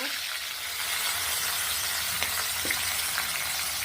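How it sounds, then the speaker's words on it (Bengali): Fish rubbed with turmeric and salt fries in hot oil in a wok, giving a loud, constant crackling sizzle with a few faint clinks over the top. "কড়াইতে তেল দিয়ে দিলাম, মাছটাকে হলুদ লবণ মাখিয়ে নিয়েছি। এখন দিয়ে দিলাম মাছ।"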